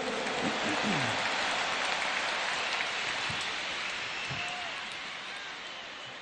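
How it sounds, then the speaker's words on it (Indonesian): A large political rally crowd applauds for Gus Muhaimin, a broad, dense wash of clapping and cheering that slowly fades, with a few voices calling out in the background. "Tepuk tangan dulu yang meriah untuk Gus Muhaimin"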